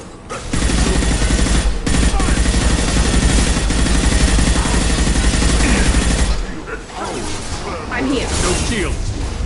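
Sustained gunfire rages through a Mass Effect video game battle against Krogan attackers, dense bursts and explosions filling the scene nearly without pause, with a brief lull before the shooting resumes; voices are faintly mixed in.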